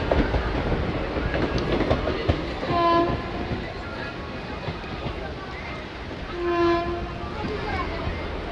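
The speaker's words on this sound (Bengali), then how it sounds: "ক্রমাগত বৃষ্টির মাঝেই ট্রেন ধীরে ধীরে এগিয়ে চলেছে" A slow-moving passenger train, a MEMU on a hilly line in monsoon rain, rumbles steadily with clattering wheels and a dense wash of rain noise, while two faint horn calls sound in the distance.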